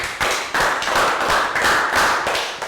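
A Year 3 class gives a round of applause in a health education lesson: several seconds of brisk, fairly loud group clapping in uneven pulses, with no talking.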